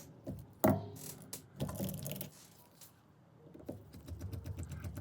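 A small screwdriver drives pentalobe screws into an iPhone 13 Mini during a battery replacement, giving a few close ticks and faint ratcheting clicks over quiet room noise.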